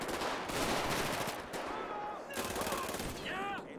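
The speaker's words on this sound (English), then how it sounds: "Let's just riddle them with bullets." Rapid Uzi gunfire in GTA 5 rattles in dense automatic bursts across most of the span, loud and close, with brief gaps and a voice breaking in near the end.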